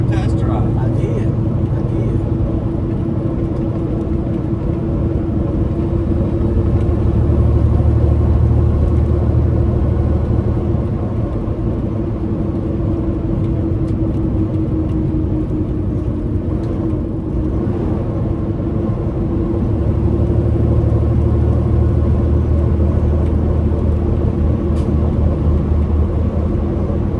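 A truck with an 18-speed transmission drives along with a steady low engine rumble and road drone, swelling slightly at moments, while people talk inside the cab over it.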